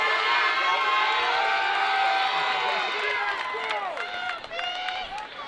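A crowd of spectators at a 7U youth football championship cheers and shouts steadily, with children's voices and scattered whoops fading slightly toward the end.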